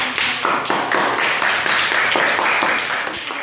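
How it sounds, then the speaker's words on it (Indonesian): A classroom of students claps for group 3 after their presentation, a brisk, loud, rhythmic round of hand claps in fairly even beats from start to finish. "Tepuk tangan untuk kelompok 3."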